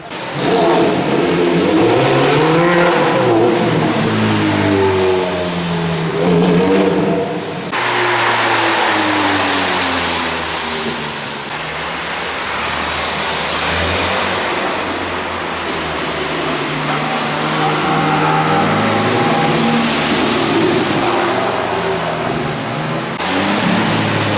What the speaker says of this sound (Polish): Właśnie akurat teraz stoi Ferrari 430, która nam tu hałasuje z daleka.